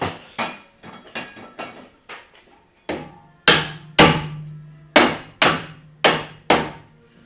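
About a dozen sharp metallic hammer blows on the strut mounting bolts of a 2012 Ford Explorer in an uneven rhythm, some ringing briefly, loud and close with no talking.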